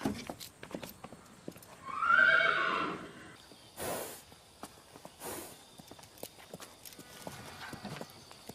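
A horse gives one loud, drawn-out whinny, with sharp hoof clip-clops and footsteps scattered around it at close range and several brief louder bursts.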